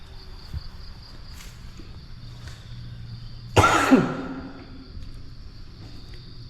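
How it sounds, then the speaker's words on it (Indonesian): A single sharp, harsh cough bursts out close by, standing out against quiet outdoor ambience with faint insect chirping. "Maaf teman-teman, aku batuk."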